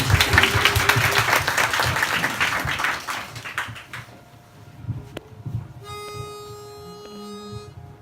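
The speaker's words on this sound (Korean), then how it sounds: "박수 청해 드리겠습니다." Applause from the audience at a Christmas joint concert in a bar, greeting the final encore ballad medley: clapping for about four seconds, then fading into quieter room sounds and soft sustained tones.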